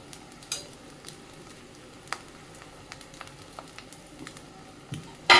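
Paneer fried rice being stirred gently in a pan, with soft scraping and faint sizzle, a few light utensil taps, and a louder clatter at the very end.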